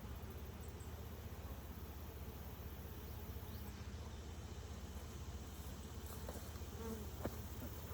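Bees hum steadily around an open beehive being worked in Kentucky, a dense, even buzz that fills the whole stretch without pause.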